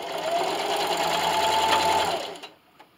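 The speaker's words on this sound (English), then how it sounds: "And just keep sewing." A sewing machine runs a steady straight stitch along a chair pad, a close, even whirring hum that stops abruptly, followed by a couple of small clicks.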